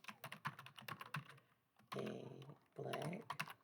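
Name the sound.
typing a text prompt on a computer keyboard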